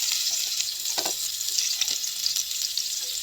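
Onion is sautéed in hot oil with garlic for a mussel dish. A bright, steady close sizzle runs throughout with a few soft stirring scrapes and no voices.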